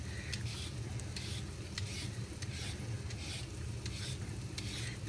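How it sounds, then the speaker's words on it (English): Onions frying in a pan for a vegetable biryani, stirred in a steady rhythm of regular scraping strokes over a quiet, constant sizzle, with no talking. "Just keep an eye on your onions at the same time as you're doing this. Stir around, nice."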